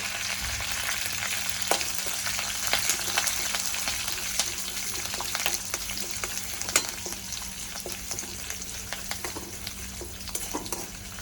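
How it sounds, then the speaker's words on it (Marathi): Finely chopped curry leaves with one green and one red chili crackle in hot oil as a tempering for vermicelli idli, a dense continuous sizzle with frequent popping and stirring clicks, close and unbroken. "मी बारीक दोन चार कडीपत्त्याचे बारीक पानं करून घेतले ते टाकते मिरची एक हिरवी एक लाल बारीक करून घेतली"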